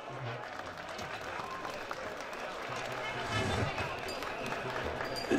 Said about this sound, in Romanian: încercăm să ne mai aplaudăm încă o dată.